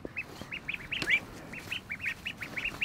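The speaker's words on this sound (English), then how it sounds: "Baby duck." Baby ducks in a backyard pen with poultry netting give a string of soft, high peeping quacks, close by and fairly faint, repeating in quick irregular bursts.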